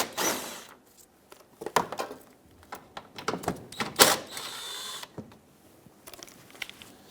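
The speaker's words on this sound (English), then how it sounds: "10mm socket on both of these bolts." A 10mm socket wrench works the splash shield bolts under a 2013–2018 Hyundai Santa Fe, giving close, irregular ratchet clicks and metallic taps, with one louder rattling burst in the middle.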